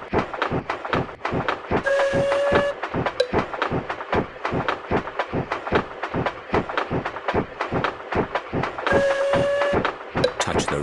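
A cartoon train in a Peppa Pig game rolls along with a fast, regular clickety-clack rhythm, loud and close, with two short whistle toots along the way.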